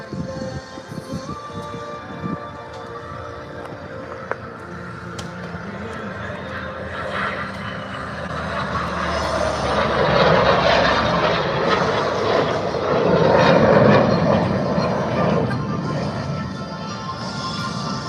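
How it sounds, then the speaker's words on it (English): Warbird-era B-38 flying in formation with a US Air Force F-22 jet at an air show, a broad engine roar that swells louder toward the middle and end as the planes pass, with crowd and public-address noise underneath. "Flying in formation today is a World War II era B-38"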